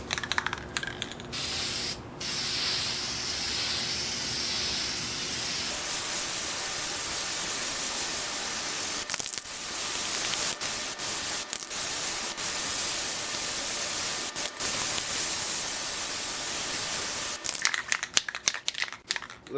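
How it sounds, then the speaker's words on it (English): Rust-Oleum high heat spray paint hisses steadily from an aerosol can in long, continuous bursts, close and fairly loud, applied to the oil pan of a vintage Singer sewing machine, with brief pauses and rattling at start and end. "This is my Rust-Oleum high heat paint."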